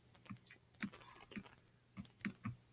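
Keys tapped on a computer keyboard, a sparse irregular run of about eight to ten close, clicky strokes in short bursts, quiet and alone without talk.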